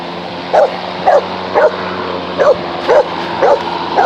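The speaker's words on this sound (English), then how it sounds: "There's the neighbor's dog." A neighbor's dog barks repeatedly in South Texas, six sharp yips at a steady rhythm, heard at moderate distance over a constant hum from a self-propelled lawn mower.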